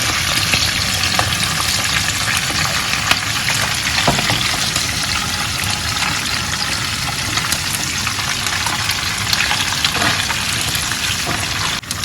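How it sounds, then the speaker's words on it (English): Steady, loud sizzling of beef frying in a hot pan for a stew, continuous throughout with occasional crackles and stirring sounds. "We start by adding our beef for frying."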